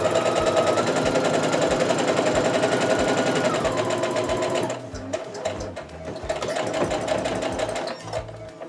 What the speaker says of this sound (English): I'm going to try to sew just to the right of where all those fabrics come together